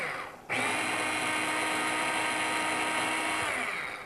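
A food processor grinds nuts for pesto, starting abruptly with a loud, steady high whir that runs continuously for several seconds before easing slightly at the end.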